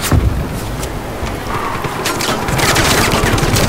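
A mounted gun in Just Cause 3 fires in rapid, continuous bursts, loud and close, with heavy booming impacts and explosions mixed into the dense, rattling fusillade.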